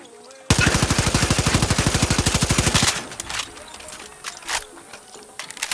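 Rifle fired in fully automatic bursts in Far Cry 6, a loud rapid stream of shots for about two and a half seconds, then scattered clicks and clatter afterward.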